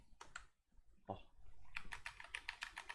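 Keys clicking on a newly unboxed computer keyboard: a few isolated clacks, then a quick run of steady, crisp, close keystrokes with no talking.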